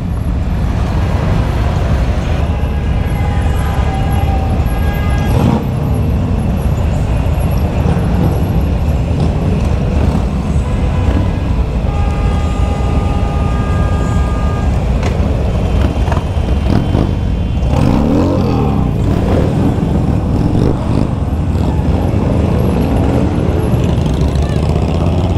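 A large crowd of motorcycles on a charity group ride for the homeless rumbles down a long straight road, forming a dense, continuous engine drone with traffic noise and someone talking over it throughout.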